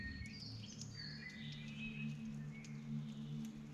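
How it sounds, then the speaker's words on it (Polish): Birds chirp and trill in the distance, a scattering of faint high calls over a soft outdoor background hum. "Patrz i tu słychać ptaki, nie?"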